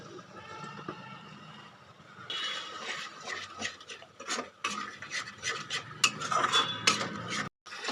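Flour slurry poured into a pan of masala for Kolkata dhaba-style chicken bharta, then stirred with a utensil, giving steady scraping, clinking and rasping strokes that grow busier partway through.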